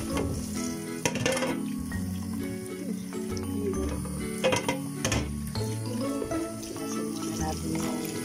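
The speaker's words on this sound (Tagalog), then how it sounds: "Gasan muna natin yung bawang, sibuyas, at itong mga labanos." Garlic, onion and radish sauté in a pan with a steady, moderate sizzle. Occasional stirring clatters sound over background music.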